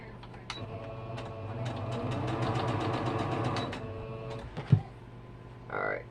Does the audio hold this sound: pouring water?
no